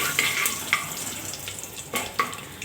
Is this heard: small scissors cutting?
no